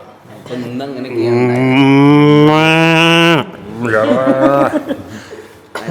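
A cow gives a long, loud, drawn-out moo close by, followed by a shorter lowing call.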